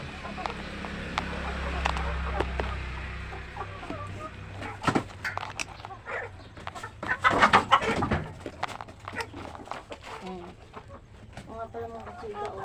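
A flock of Rhode Island Red chickens clucks and squawks close by in a farmyard, with scattered calls building to a busier cluster midway while a person talks over part of it.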